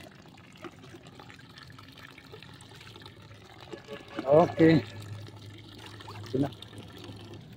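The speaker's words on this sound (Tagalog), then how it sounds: "Dilig natin." Water splashes out in a couple of short pours onto plants in a rooftop garden, then a smaller splash follows, with a quiet background and a brief spoken word.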